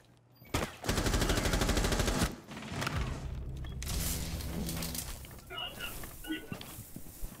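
Gunfire in the video game Rainbow Six Siege, a dense rapid burst of automatic shots followed by scattered rumbling fire and impacts, loud and close, with players talking over it.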